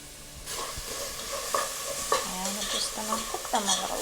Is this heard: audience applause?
no